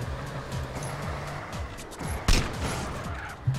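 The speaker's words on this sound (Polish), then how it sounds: "Z czego ty strzelasz? Nie wiem, mam shotgun." Shotgun blasts in GTA: San Andreas Multiplayer, a couple of sharp reports standing out over a busy, steady game background of rumbling noise, with no voices present.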